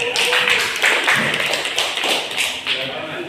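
Students clapping in a high school classroom to applaud a classmate, a dense, steady patter of many hands at close range with some voices mixed in.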